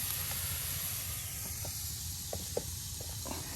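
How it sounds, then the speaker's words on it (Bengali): Ground spices, including turmeric, frying in a pan produce a constant, fairly quiet hiss, with a few faint clicks and taps from the cookware near the end and no voices. "মশলাটা ভাজা হচ্ছে এখন।"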